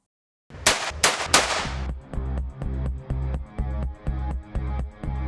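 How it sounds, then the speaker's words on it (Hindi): Three loud, sharp gunshots crack in quick succession, then a heavy pulsing beat repeats steadily. "इन एहलकारों पर नजर पड़ते ही ये अंधाधुन गोलियां बरसाने लगा"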